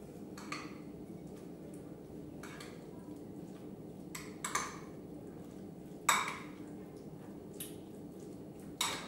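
A spoon mixes yogurt sauce into Nordic shrimp in a bowl, with scattered soft clinks and scrapes at irregular intervals over a quiet background.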